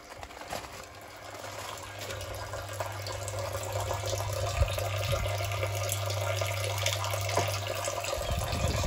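A pond filter tank draining water, heard as a steady close rush and trickle with a low hum underneath, running for most of the clip before it quietens at the end.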